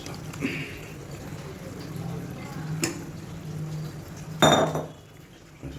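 Onion paste being scraped and stirred into red chilli chutney in a pan, with soft clinks of a spoon against metal and a sharper clatter near the end, fairly quiet.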